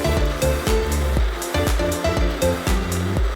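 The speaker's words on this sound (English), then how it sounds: "And let's blend it together." A blender whirs loudly and steadily, blending a whole lemon with water, its motor hum broken by a rhythmic series of thumps and knocks as the lemon tumbles against the blades, with no talk.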